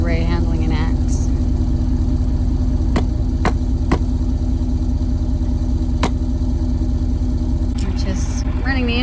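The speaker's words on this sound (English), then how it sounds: "Running the engine in the Earthy to charge the batteries so that we have enough batteries to last us." An EarthRoamer expedition camper's engine idles while parked for the night to charge its batteries, a steady, loud low drone throughout, with a few brief higher sounds and faint voice-like tones near the start and end.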